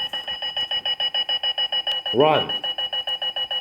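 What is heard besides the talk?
running alarm clock ringing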